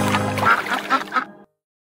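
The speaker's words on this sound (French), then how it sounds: "Maman canard cria couac, couac, couac" Cartoon duck quacks in a French children's nursery song, a quick run of several nasal quacks over a musical backing, loud and close, ending abruptly into silence.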